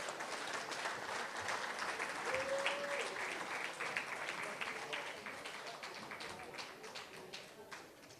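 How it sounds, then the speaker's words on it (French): An audience at a conference launching the 2013 Fête nationale in St-Lin-Laurentides gives steady, dense applause that holds fairly even throughout, with some voices underneath. "Mesdames et messieurs, on va leur donner une bonne main d'applaudissement,"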